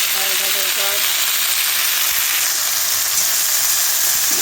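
Leafy greens frying in a pan on a home stove, a loud, steady broadband sizzle and hiss running throughout, with a brief voice or tonal sound near the start.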